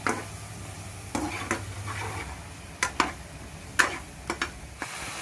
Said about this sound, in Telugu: నెక్స్ట్ మునక్కాయలు అయితే వేసేసుకుందాం. బాగా కలిపుకుందాం గట్టిగా